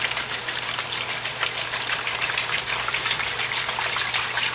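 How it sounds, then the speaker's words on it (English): A gallon of water pours steadily into a plastic container holding the rusted body and jaw of a vise, a continuous close gushing splash with no talk. "I'm going to put a gallon of water."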